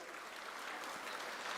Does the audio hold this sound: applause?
yes